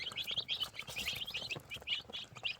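A flock of about 34 light Brahma chicks, five to six days old, chirps in a busy, continuous chorus of high peeps, close and fairly quiet with no talking.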